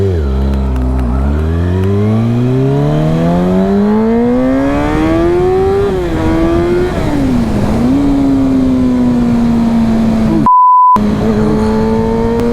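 A Kawasaki Ninja ZX-6R motorcycle engine revs up through the gears on a freeway, loud and close, pitch rising and dipping with shifts over constant wind roar, with a short electronic beep near the end.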